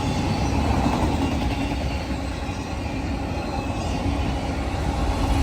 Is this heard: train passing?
yes